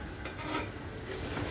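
Taro (kochu mukhi) and hilsa fish being fried with spices in a pan, a low continuous soft sizzle with faint stirring and scraping, quiet and close throughout.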